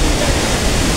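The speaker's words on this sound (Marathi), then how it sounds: "आपण देवकुंड वॉटरफॉलला पोहोचलेलो आहे आणि तुम्ही बघू शकता देवकुंड वॉटरफॉल" Devkund waterfall during the monsoon pours as a dense, loud, unbroken rush of water, close by and uniform throughout, with no voices over it.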